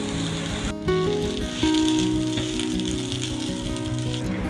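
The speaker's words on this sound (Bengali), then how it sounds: "ওদিকে আলুটা একটু ভাজা হোক" Potatoes fry in a pan with a bright crackling sizzle, a sharp jump in intensity near the start and again partway through as the frying grows louder, with tonal clatter of the pan mixed in.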